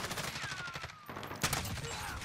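Bursts of rapid automatic gunfire crackle in the video game Call of Duty: Modern Warfare, dense and fairly loud with a short gap midway before firing resumes.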